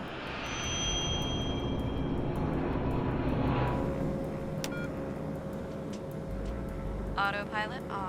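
Continental Express Flight 2574, a passenger airliner near the end of a flight from Laredo to Houston, roars with a steady engine drone. The noise then drops to a quieter cockpit hum with tones and beeps as a voice speaks.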